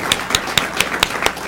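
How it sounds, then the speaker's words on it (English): Round of applause at a commission meeting, heard as a steady series of crisp, evenly spaced claps about a quarter-second apart, fairly close and sparse rather than a full crowd. "A round of applause for David."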